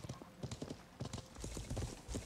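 Horse hooves clip-clopping at a gallop while riding in the medieval video game Life is Feudal, rhythmic thuds close and steady, with faint background murmur.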